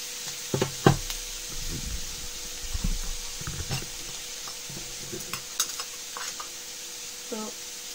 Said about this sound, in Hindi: फुल गैस पे ही भूनना है इसको।